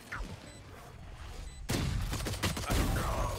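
Shotgun blasts in the tactical shooter Valorant, a sharp loud report halfway through followed by further heavy shots and clatter, with faint game noise before it.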